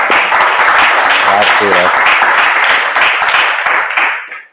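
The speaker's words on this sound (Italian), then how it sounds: "ci vuole un bel applauso" At a book presentation event, an audience gives sustained, close applause for an arriving author, with a voice briefly speaking over the clapping before it fades out at the end.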